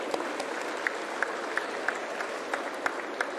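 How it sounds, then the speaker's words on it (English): An audience at the IGBC Green Property Show at Hitex Exhibition Centre in Hyderabad gives sustained, dense applause, with a few louder individual claps popping out of the steady wash of hands. "we need to have a serious clap for all this activity."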